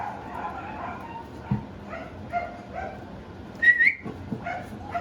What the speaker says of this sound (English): I whistled and you came running, huh?